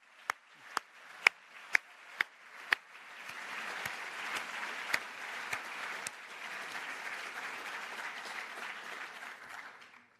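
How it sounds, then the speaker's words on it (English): Applause at a graduation ceremony, opening with a few sharp, distinct claps that swell into sustained clapping from a large audience in a hall, then fade away. "And this is our applause for you"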